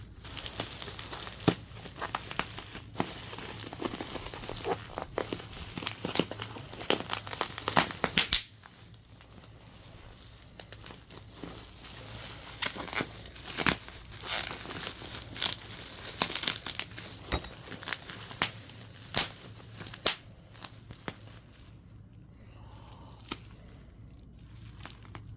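Plastic packaging being unwrapped from a Dyson DC17 Asthma+Allergy vacuum wand, irregular close crinkling and crackling that is busy at first, then sparser and quieter.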